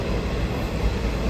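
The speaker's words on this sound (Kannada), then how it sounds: "Goods train." A goods train rolls past close by, a dense continuous rumble of rail and wagon noise filling the short stretch, loud and alone without voices.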